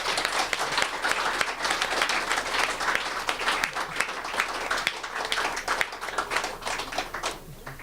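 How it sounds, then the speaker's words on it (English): Audience applause for the speakers of an afternoon festival session, a dense, sustained wash of many hands clapping at steady loudness for nearly eight seconds, thinning slightly at the very end. "Please give them a round of applause."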